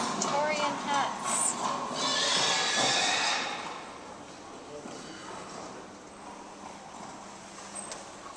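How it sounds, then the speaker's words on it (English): A recorded horse neighs and whinnies, mixed with broad clattering noise in what sounds like a Victorian-themed exhibit. The sound is loud early on and fades to a quieter background, with voices talking throughout. "Hearing sounds like the horses and everything."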